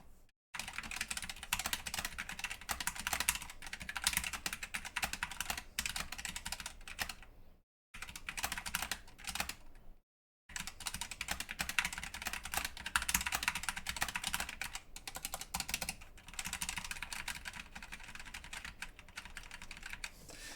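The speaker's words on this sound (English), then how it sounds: "And let's do a little typing test." Mechanical keyboard with smooth linear red-equivalent switches and soft springs typed on continuously, a dense close clatter of rapid keystrokes lasting about twenty seconds with two brief pauses, no talking.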